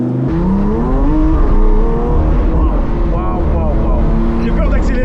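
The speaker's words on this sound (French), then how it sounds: "c'est parti pour démarrer la SVJ" A Lamborghini SVJ engine in a driving video game starts and revs loudly in a continuous roar with rising and falling pitch, while excited voices talk over it.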